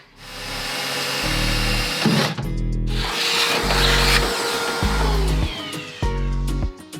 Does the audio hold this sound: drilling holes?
yes